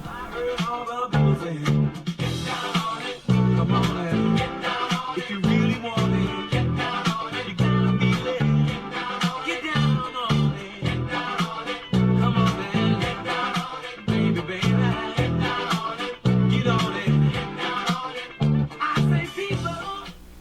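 A bass guitar plays the main riff of a song, repeating steadily over a full band with drums, looping the same low pattern for about twenty seconds, loud and dense.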